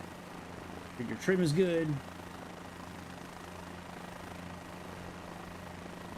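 A helicopter flying in the video game Microsoft Flight Simulator 2024, a steady low rotor and engine drone running throughout while a brief spoken line sits over it.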